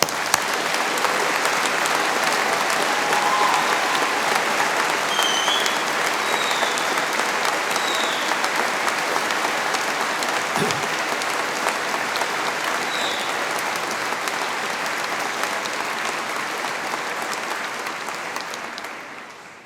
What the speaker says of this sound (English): Pretty impressive round of applause there.